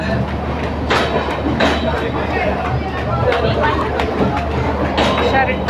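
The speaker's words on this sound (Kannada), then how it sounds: "ಸೊ ನಮ್ಮ ಟ್ರೈನ್ ಬಂದಿದೆ ಇವಾಗ." A train arriving at a railway station rumbles steadily at close range with rhythmic clattering and squeals, while a crowd murmurs and people talk nearby on the platform.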